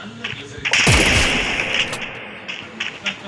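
A single loud gunshot in the mobile battle game Free Fire cracks out and rings briefly, with softer game sounds around it.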